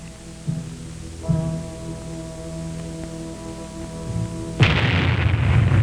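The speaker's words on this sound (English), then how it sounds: "The moments tick away as we await the bomb and the fireball." Atomic bomb test detonation in the 1950s, a low rumbling hum building before a sudden loud broadband blast wave that hits near the end and roars on.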